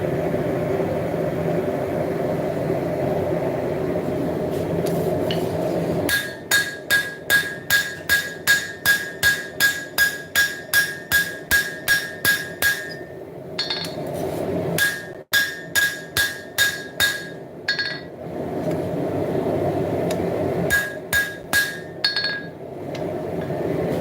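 Hammer blows forging the tang of a Bowie knife on an anvil, ringing metallic strikes in quick rhythmic bursts of a dozen or more, separated by pauses with a background roar, close and loud.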